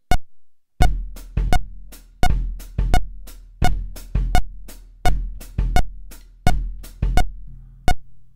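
Drum set playing the Bayo ostinato pattern: sharp, loud hits in a repeating syncopated rhythm, each with a short decay and a low thump beneath, played alone with no speech.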